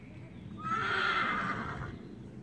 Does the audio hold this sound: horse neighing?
yes